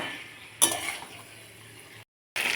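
A utensil stirs chili chicken in a pan, opening with a bright metallic clink against the pan, then a steady low sizzle and scraping before a brief sudden dropout and a return.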